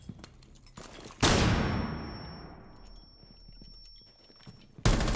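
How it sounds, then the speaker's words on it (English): A flashbang grenade goes off in Rainbow Six Siege, a sudden loud close blast followed by a long high ringing tone while softer muffled game sounds continue underneath, then another sharp burst at the end. "Flashbang going now."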